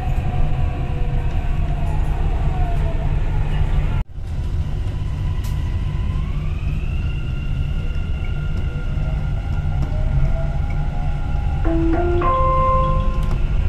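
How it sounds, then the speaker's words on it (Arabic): A Dubai Metro train running between stations, a steady loud rumble and rolling hum throughout with rising motor whine tones, a brief dropout near the middle and a few chime-like tones near the end. "The final destination of this train is"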